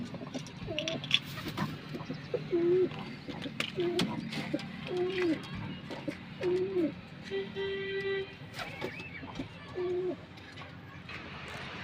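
Low, rounded cooing calls repeat every second or two from nearby pigeons, over a steady background murmur and occasional faint voices.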